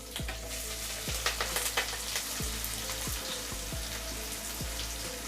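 Three chopped onions and a pair of other cut ingredients fry loudly in hot oil for a prawn kulambu. The steady crackling sizzle carries a few stirring scrapes and is close and continuous, with no voices.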